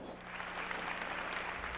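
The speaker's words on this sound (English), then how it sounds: "Applause broke out as the chorus walked on stage." Audience applause fills a concert hall as a symphony chorus walks onto the stage, a steady wash of clapping at moderate level with no gaps for its short length.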